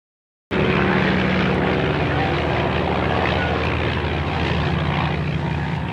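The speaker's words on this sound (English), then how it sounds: "your plane is all warmed up" A warmed-up propeller airplane engine starts abruptly and runs as a loud, steady droning roar with a low throbbing hum, close by and sustained throughout.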